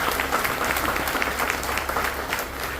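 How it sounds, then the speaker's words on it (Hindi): An audience clapping in a hall, a dense, steady burst of applause from many hands with no pauses. "एक बार जोरदार ताली होनी चाहिए इनके लिए"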